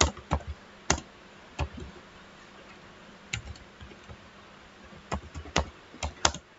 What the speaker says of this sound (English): let's type anything here